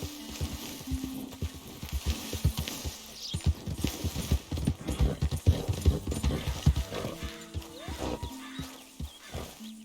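Horse hooves clip-clop steadily and close in Red Dead Redemption 2, a brisk uneven rhythm of hoof strikes across the scene, with a brief whinny-like call and other game sounds near the end.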